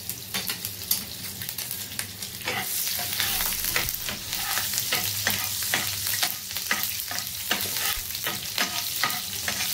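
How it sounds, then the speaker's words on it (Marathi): Chopped chillies fry in hot oil for egg bhurji, a continuous crackling sizzle broken by repeated sharp scrapes and taps of a spoon stirring in the pan. "तेल टाकल्यावरती सर्वात प्रथम आपण त्याच्यामध्ये ज्या मिरच्या चॉप केलेल्या आहेत त्या टाकणार आहोत"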